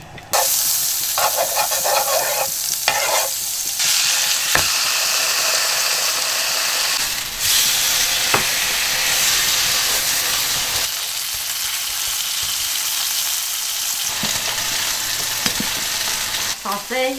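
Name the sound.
tomahawk steak frying in butter in a pan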